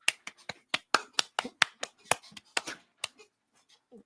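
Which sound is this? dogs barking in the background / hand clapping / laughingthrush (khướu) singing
hand clapping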